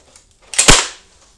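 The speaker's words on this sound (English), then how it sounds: "Well, we just destroyed the lens." A Coby CD player's lens struck and smashed once: a single sharp, loud crack with a brief scattering rattle trailing after it, heard alone.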